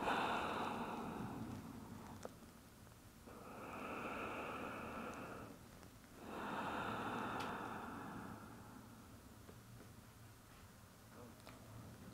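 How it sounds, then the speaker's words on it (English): Slow, deep breathing in and out through the nose during a relaxing bedtime yoga flow, two long airy breaths rising and fading in steady rhythm, close and soft against faint background hiss. "Taking a few more deep breaths here, in and out through the nose"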